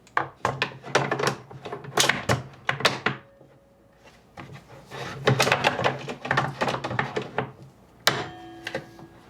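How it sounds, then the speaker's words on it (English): A Kreg drawer slide jig being flipped and snugged up under a drawer slide in a woodshop, giving bursts of close wooden knocks, clicks and rattles with a short pause between them. "you're just taking the jig, flip it around, snug it up underneath the drawer slide,"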